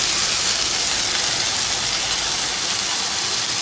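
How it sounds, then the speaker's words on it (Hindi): Chicken frying in a pan for a chana dal chicken dish, a steady loud sizzle and hiss running continuously without pause. "चिकन को थोड़ा सा भून लेंगे।"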